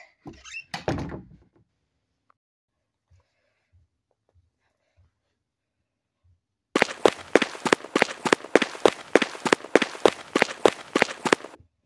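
A door being tried in the Rainbow Friends Chapter 2 game: a quick burst of rattling, then near silence with a few faint thuds, followed by a rapid run of sharp, evenly spaced knocks or bangs for about five seconds.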